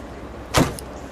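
A front air flap on a 1959 Jensen 541R Coupe is pushed open by hand, giving one short, sharp mechanical clack up close in an otherwise quiet setting.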